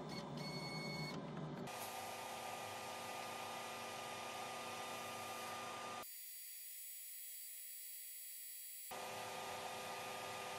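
An Atomstack A70 Pro 70W diode laser engraver cuts through 3 mm board, giving a steady, loud whirring hiss with a high whine throughout. The low rumble drops out for a few seconds midway, then returns.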